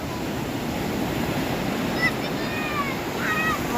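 Sea waves washing onto a beach on a clean, calm sea day, a steady broad surf wash with light wind, plus faint distant voices and occasional high calls in the background.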